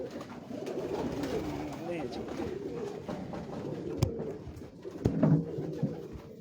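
Pale-coloured pigeons of a sickly-looking breed coo on a Lahore rooftop in soft, repeated rolling calls, with a couple of sharp knocks and a brief flutter late on, while people talk nearby.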